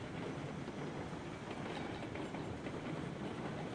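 A train in the Railroads Online video game runs at speed during a high-speed test, a faint steady rumble with soft rhythmic rail clatter throughout.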